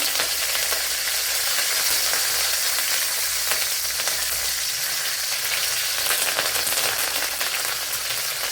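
Loud, steady sizzling of mustard seeds popping in hot coconut oil crackles continuously at close range, a dense frying hiss with small pops throughout.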